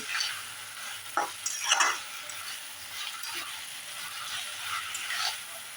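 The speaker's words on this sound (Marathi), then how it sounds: "हे परतून घ्यायचं आहे आणि ह्याच्यात इडली टाकायची आणि परतायची" Schezwan sauce for idli chilli is stir-fried in a pan, making a faint, continuous sizzle broken by a few soft scraping stirs, quiet and close, with no speech.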